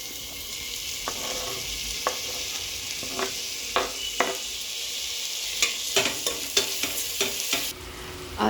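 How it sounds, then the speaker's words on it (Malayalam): Tomato fries with ginger garlic paste and onion for a vegetable biryani, a soft continuous sizzle broken by a series of sharp spoon scrapes and clacks against the pan, fairly quiet, with no talk. "നമ്മൾ ടൊമാറ്റോ ആഡ് ചെയ്ത് കൊടുക്കുക"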